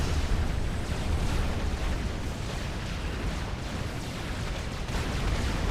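Artillery ground fire pounds a spot on a Forged Alliance Forever battlefield, a constant roaring wash of overlapping explosions and rumble that stays loud and even throughout with no distinct gaps.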